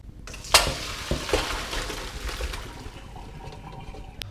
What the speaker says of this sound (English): Get a colander, whack it in the sink, drain them off.